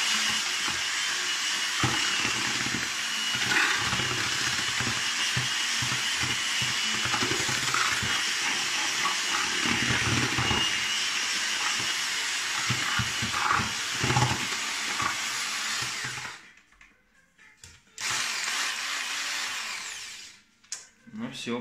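A drill fitted with a mixing paddle churns adhesive mortar for an aerated-concrete fireplace, whirring loudly and steadily for about sixteen seconds, then cutting out briefly before a short final burst.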